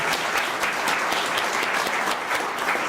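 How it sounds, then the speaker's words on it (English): An audience at a Black cultural centre event in Nova Scotia gives a continuous, close round of applause, a dense and even patter of many hands clapping. "Can we give them a round of applause?"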